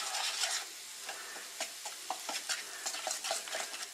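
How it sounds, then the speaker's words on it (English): Ground lamb is worked together with salt, oil and spices, producing close, irregular soft squelches and wet slaps that repeat in quick bursts. "We're going to mix this up first."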